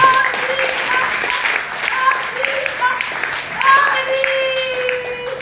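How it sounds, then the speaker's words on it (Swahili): A church congregation clapping for Jesus at a youth gathering, scattered applause bursts that rise and fall beneath a preacher speaking loudly over them. "Mpigie Yesu makofi mazuri."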